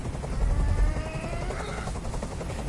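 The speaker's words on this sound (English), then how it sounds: "I can't stand that noise anymore. Tell that helicopter to get out of here." A helicopter in the video game Detroit: Become Human drones with a loud, steady rotor thrum, close and continuous, a faint whine riding over the low beating.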